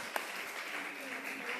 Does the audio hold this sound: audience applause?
yes